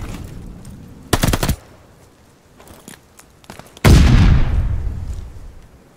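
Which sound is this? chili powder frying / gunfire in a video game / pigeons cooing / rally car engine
gunfire in a video game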